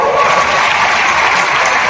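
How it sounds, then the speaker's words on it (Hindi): An audience at a political speech in Delhi claps loudly and steadily, a dense continuous roar of applause with no gaps. "जोरदार ताली बजाओ"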